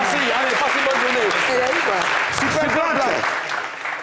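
Studio audience applause for a reggae performer on a TV entertainment show, a steady crackling wash lasting several seconds with voices and musical tones sounding over it before it begins to taper.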